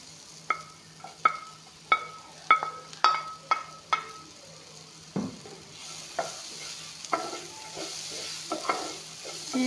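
Bitter gourd frying with onion in a pan: a steady sizzle runs underneath while a spatula knocks and scrapes against the metal in a string of sharp, fairly regular strokes, close by and with no talking.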